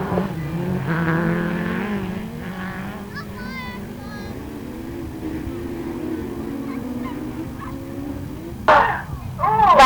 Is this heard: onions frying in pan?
no